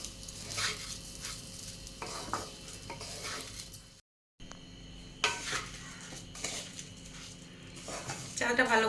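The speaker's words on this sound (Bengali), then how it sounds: "একটু ভালো করে ভেজে নিতে হবে চালগুলোকে।" Raw rice for basanti pulao is fried in a pan with a soft sizzle, while a spoon stirs and scrapes against the metal in repeated strokes, close by, with a brief silent gap midway.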